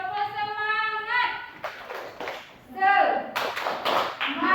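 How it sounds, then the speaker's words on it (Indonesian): A classroom group performs a rhythmic 'spirit clap' cheer for a student named Suci: a run of sharp, quick hand claps in a steady pattern, mixed with chanting voices close by. "Mana tepuk semangatnya buat Suci? Tepuk semangat."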